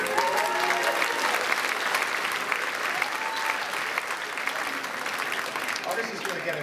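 An audience at the Guernsey Awards for Achievement 2013 ceremony breaks into loud, sustained applause and cheering, a dense wash of clapping with voices rising through it.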